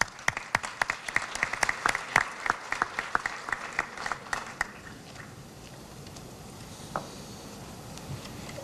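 An audience at a university awards ceremony gives a warm round of applause, with dense, close claps that start strongly, thin out after about five seconds and fade into scattered claps and room murmur.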